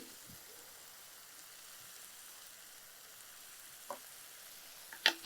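Tomatoes sauté in a pan for rasam with a quiet, steady sizzle, broken near the end by a few sharp clinks of a utensil against the pan.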